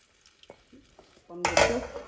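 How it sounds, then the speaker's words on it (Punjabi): Gram flour (besan) tipped into a hot cooking pan and stirred for besan bhurji, a few soft clinks of utensil on metal, then a loud burst of sizzling and scraping near at hand. "ਆਪਾਂ ਹੁਣ ਪਾ ਦਿੰਨੇ ਜੀ ਵਿੱਚ ਵੇਸਣ"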